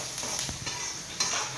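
Onions sautéing in a pan for chilli kothu chapathi, a continuous close sizzle with a few soft scrapes and stirring knocks.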